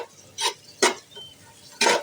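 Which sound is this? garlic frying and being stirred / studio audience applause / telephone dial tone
garlic frying and being stirred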